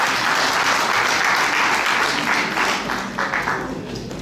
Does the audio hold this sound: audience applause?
yes